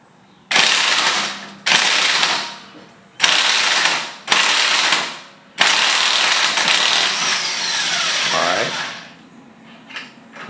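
Air ratchet or impact tool loosening a bolt during a brake change on a 2002 Chevrolet Tahoe, five loud close bursts of whirring and rattling, then a longer sustained run with a falling whine.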